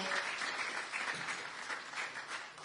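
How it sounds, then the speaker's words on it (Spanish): Steady applause from a church congregation, continuous and fairly distant, with dense clapping filling the whole stretch and no voices on top. "Denle un aplauso a Cristo"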